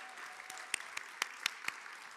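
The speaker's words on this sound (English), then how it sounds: "Please join me in a round of applause for our 2023 Excellence in Research winner, Professor Jay Meegoda." Audience applause at a university Excellence in Research award ceremony, heard as a sparse, fairly faint patter of separate claps spread across a couple of seconds rather than a full ovation.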